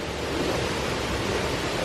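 A historic water wheel turns in flowing water at a Cornish gold mining site, heard as a steady, loud, continuous rushing and splashing of water with no pauses or talking.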